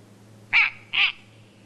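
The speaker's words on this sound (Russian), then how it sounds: "Вряд ли городскому жителю доводилось слышать крик белой совы." A snowy owl gives two loud, close, harsh calls about half a second apart against a faint steady hum.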